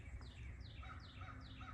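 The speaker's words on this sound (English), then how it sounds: "There's the Carolina wren." Repeated short descending chirping phrases of a Carolina wren singing in a swampy Western Maryland woodland, four evenly spaced notes standing out clearly over low background rumble.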